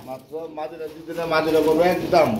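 Pigeons coo at a pigeon market, throaty warbling coos rising and falling in short bursts, close by and mixed in with nearby speech.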